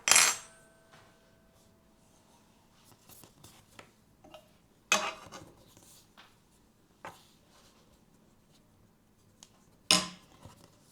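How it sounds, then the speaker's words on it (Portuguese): A fork presses closed the edges of homemade pastel dough, giving a few sharp, separate taps against the work surface several seconds apart, with quiet handling noise between them. "pega um garfo pra selar bem, pra depois não abrir na hora de fritar"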